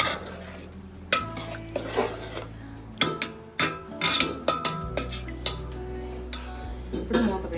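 A spoon scrapes and clinks in a pot as rice is stirred into kushka, with faint sizzling beneath irregular knocks and scrapes, fairly quiet and close.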